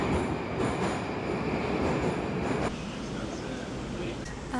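A Moscow metro train rumbles loudly close by, with rolling wheel noise and faint squeals. Its sound eases slightly near the end, and a voice is heard briefly under it.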